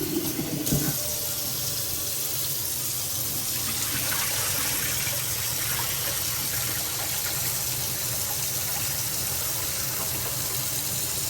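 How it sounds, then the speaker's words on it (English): Potatoes are rinsed under running water in a kitchen sink and drained, with a brief clunk at the start and then a steady close rush of tap water that continues alone. "A good time to rinse them off too. Get some of that starch. Wash them good."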